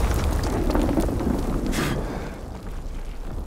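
Enemy bomb blast in the Call of Duty WWII video game, a loud rumbling boom with a roaring, noisy tail that slowly fades over a few seconds.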